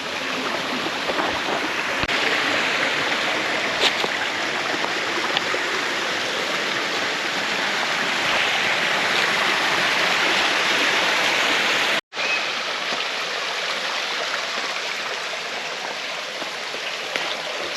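A Hawaiian stream spilling down from a waterfall rushes in a steady, loud, broadband roar that continues without pause.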